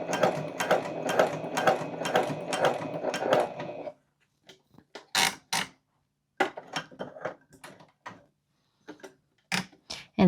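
A sewing machine stitches a box-with-X pattern across a tote bag strap in a rapid, continuous run of needle strokes for about four seconds, then gives way to scattered clicks and handling noises.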